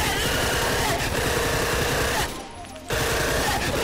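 RPK machine gun in a video game firing long, rapid automatic bursts, loud and continuous, with a brief lull before the firing resumes.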